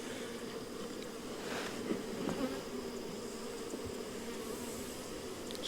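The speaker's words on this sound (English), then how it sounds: "These are some very calm bees." Honey bees from a late-July swarm buzz around an open hive, a steady, soft drone of many insects with a few brief louder passes close by, and no one talking.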